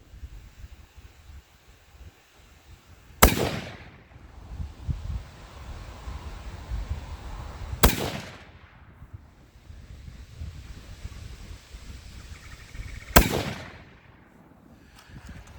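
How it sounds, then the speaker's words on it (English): Three sharp rifle shots spaced about five seconds apart, each a loud crack with a decaying tail, fired as a group using an aged Varget powder load at an outdoor range, with light wind noise between shots. "just shot the 3-shot group of the Varget load"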